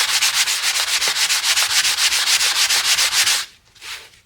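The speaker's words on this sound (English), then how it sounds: "the purpose of sanding, or as I know, is getting all the loose wood out the way and making it smooth" Small pieces of wood flooring are sanded by hand in quick, steady back-and-forth strokes, a close rasping scrape repeating rhythmically, then a pause and one final stroke.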